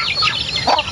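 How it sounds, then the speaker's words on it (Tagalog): A native hen with her chicks, heard in a brief, close burst of soft clucks and high peeps, with no talking. "So ito yung inahin guys na may sisiw."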